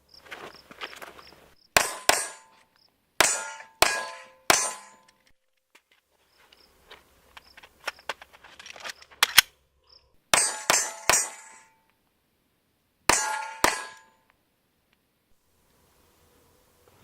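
Handgun rounds fired at a steel target, each sharp shot followed by a ringing metallic clang, in pairs and small groups separated by quiet pauses.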